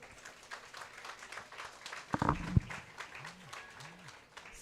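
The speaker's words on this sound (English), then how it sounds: "A big round of applause, everyone." Audience applause after a university musical concert, light scattered clapping with a few louder claps and some crowd shuffling, fairly faint and distant.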